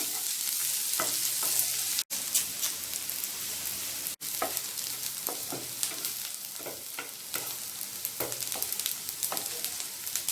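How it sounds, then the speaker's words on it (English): Onions sauté in a pan with a steady quiet sizzle, while light stirring scrapes and taps recur irregularly throughout, heard up close with no voices. "Just saute this for at least 2 to 3 minutes till our onions turn brown."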